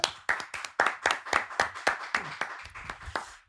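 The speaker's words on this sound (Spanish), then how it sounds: "Vamos a dar un aplauso bien grande para bienvenir" A small group of people claps to welcome a guest on a talk podcast, about a dozen distinct sharp claps in an uneven rhythm, close and fairly loud, with no speech over it.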